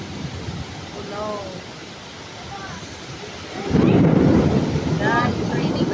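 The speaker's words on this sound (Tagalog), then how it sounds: "Look at that, guys. Very heavy raining." Heavy rain pours steadily as a dense broadband roar, swelling louder partway through with a deep rumble of thunder, while people talk and exclaim over it.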